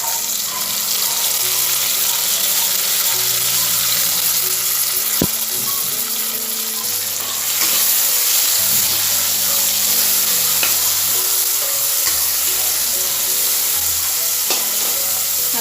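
A loud, constant sizzle of frying for chicken pulav fills the pan, with a spoon stirring and scraping through it and no voices over the hiss.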